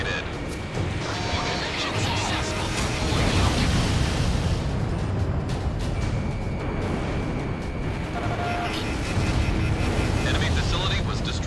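An enemy facility blows up in the jet combat game Ace Combat 6, a dense roaring explosion with crashing debris under continuous jet and battle noise, loud and sustained throughout, with radio voices talking over it.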